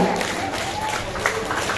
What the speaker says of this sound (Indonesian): Kita beri tepuk tangan sekali lagi untuk perwakilan kelas 7A